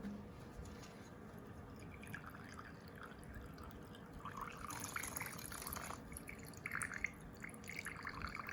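Gasoline trickles and splashes faintly into the tank of a Honda Express moped, a quiet, uneven liquid pour that grows slightly busier midway against a low background hum.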